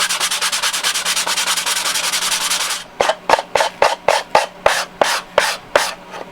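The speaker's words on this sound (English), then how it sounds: "sand just enough to get the plaster off" Sanding plaster off a foam board model building: a steady run of close, rapid rubbing strokes, then a slower series of separate, evenly spaced sanding passes.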